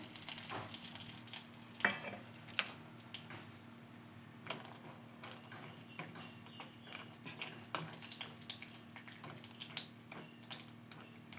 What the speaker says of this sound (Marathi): त्याच्यामध्ये बदाम काजू असं भाजून घेऊया